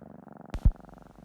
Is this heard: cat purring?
yes